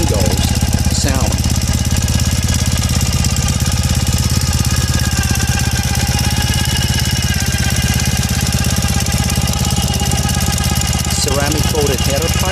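A Ural Retro motorcycle with ceramic coated header pipes and FMF mufflers idles loudly and steadily, a dense rapid thumping that runs throughout with someone talking over it.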